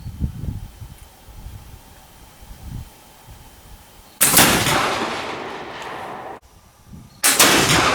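A Kibler flintlock fowler fires bare round balls outdoors, giving a loud, close blast that rings out for about two seconds and then a second sharp shot, with faint handling rustles before the first.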